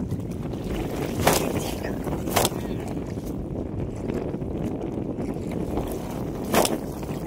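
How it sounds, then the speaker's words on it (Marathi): Strong wind buffets the microphone in a constant roar while fishing nets are hauled from a boat, with a few sharper gusts standing out. A voice is faintly heard under the noise. "वारं बघा कसं सुटलं मित्रांनो मारणाचं"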